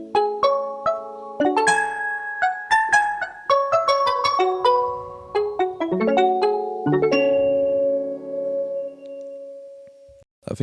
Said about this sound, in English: I was literally trying to emulate a Kalimba, but with this wavetable synthesizer